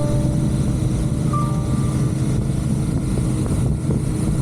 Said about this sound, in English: I'm going as fast as I pretty much can on my Super Meteor 650, and I'm struggling to keep up with the Rebel 500.